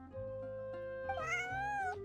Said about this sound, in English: That is a big cat.